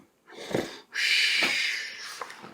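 Voice imitating a bear snoring in a read-aloud story: a low snort followed by a long, breathy wheezing exhale, close and moderately loud.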